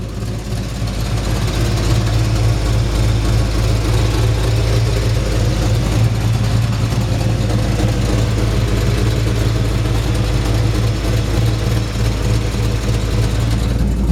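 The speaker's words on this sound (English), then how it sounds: "Nice aggressive, really nice aggressive sounding exhaust there" A 1953 Chevrolet 3100 pickup engine idles with an aggressive exhaust, a loud, steady, throaty low rumble that holds evenly from start to finish with no voices over it.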